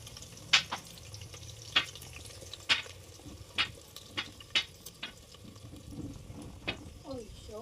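Onions and green chilies fry in a home kitchen pan, with a low steady sizzle broken by sharp scraping clinks of a spoon stirring against the metal at irregular intervals.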